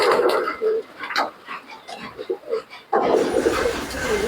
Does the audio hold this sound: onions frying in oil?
no